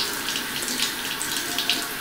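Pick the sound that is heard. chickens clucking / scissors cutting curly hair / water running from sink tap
water running from sink tap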